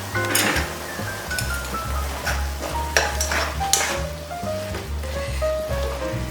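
Perilla leaf shoots are stir-fried in a pan, a soft continuous sizzle under scraping and stirring with occasional light clinks of a utensil against the pan, close and steady throughout.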